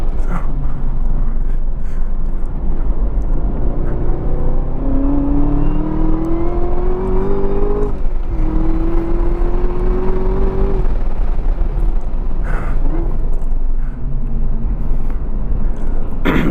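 A supercharged 2018 Chevrolet Camaro ZL1 1LE on the Hallett track roars loud and close, rising in pitch as it pulls through the gears with a brief drop at each shift and a steady whine over the engine.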